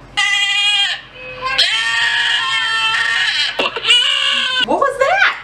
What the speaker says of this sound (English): It is a billy goat here in this kitchen.